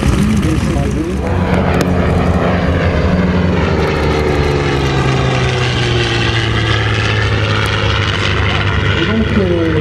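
A WWII-era military propeller airplane flies past at the 2008 La Ferté-Alais airshow, its loud, steady piston-engine drone holding throughout with a slowly shifting pitch as it passes, and no voices over it.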